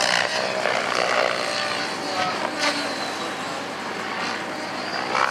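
A small radio-controlled helicopter flies 3D aerobatics, whining steadily overhead, a high buzzing rotor and motor sound that swells and fades slightly as it moves.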